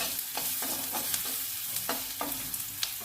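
Onions frying in hot oil with garam masala for a paneer curry, a constant sizzle punctuated by regular scraping strokes of a spatula stirring the pan, close up with no speech.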